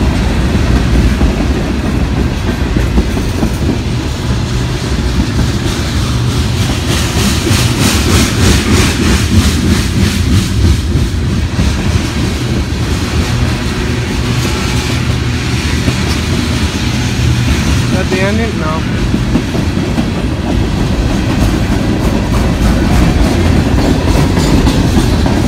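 A long train rolls steadily past on the tracks for the whole stretch, loud and close, with continuous rumbling and rhythmic clickety-clack from the wagons and no talk.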